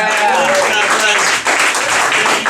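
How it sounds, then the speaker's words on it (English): Studio audience on a late-night talk show gives a loud, dense burst of applause that fills the room throughout, with a host's voice talking over it. "Give them both a big round of applause."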